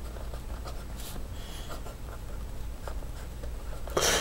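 An Edison Menlo pump-filler fountain pen with a medium nib writes on paper, giving faint, steady scratchy strokes with soft ticks, closing on a louder rustle.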